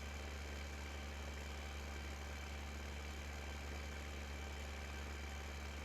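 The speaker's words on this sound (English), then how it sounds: "Come on, tractor, a little bit faster." Tractor engine in the Farming Simulator 15 video game running with a steady low drone, faint and unchanging, with no speech.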